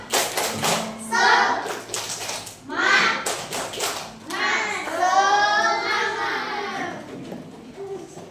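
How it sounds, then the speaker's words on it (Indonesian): A primary school class performs a rhythmic 'tepuk semangat' spirit clap, bursts of sharp group claps in a patterned beat, close and loud, with children's voices chanting along between the clap groups. "Kasih semangat dulu. Tepuk semangat."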